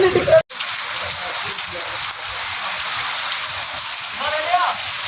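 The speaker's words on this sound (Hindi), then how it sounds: "मीरपुर मातले में ज़ोरदार बरसात वसी रही है" Heavy rain pours down steadily on an outdoor drama set in Mirpur Mathelo, a dense, hissing wash, close and loud, with a brief dropout near the start.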